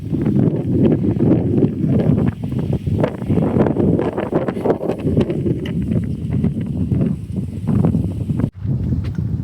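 Gusty wind at a beach buffets the microphone in loud, uneven rumbling bursts, with a brief lull near the end.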